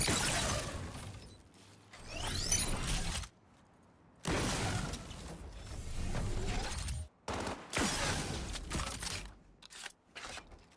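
Shotgun blasts from Cyberpunk combat, several loud booming shots in bursts separated by brief silences, with clattering mechanical handling between them.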